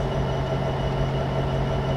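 Coal train locomotives in Train Simulator 2015 at Cajon Pass, with three engines at the front and two at the rear, give a steady, dense diesel rumble with a constant low hum.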